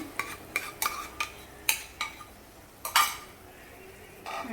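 A spoon stirs whisked curd into a tempering in a pan with the gas turned off, giving about eight sharp metallic scrapes and clinks in an uneven rhythm, close by and with no talking.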